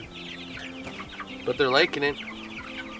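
Meat chickens out on grass cluck and squawk close by in a brief burst, with someone talking quietly over the flock.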